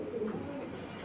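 Pigeons coo softly at a market stall selling high-flying Giribaj pigeons, including red Bajindar, mongoose-neck and silver birds. Low, murmuring coos run steadily through the whole clip at a faint, moderate distance with no voices.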